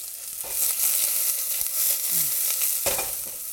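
Onions frying in olive oil and butter in a very hot pot, a steady broadband sizzle with occasional scraping stir strokes throughout.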